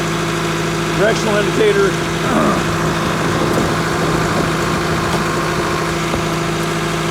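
Kubota M5660 SU tractor engine idling loud and close, a steady rumbling drone with a clicking directional indicator and someone talking over it.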